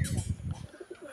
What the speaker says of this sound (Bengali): দুইটা কবুতর বাদে সবগুলো হলো রাজশাহী গিরিবাজ।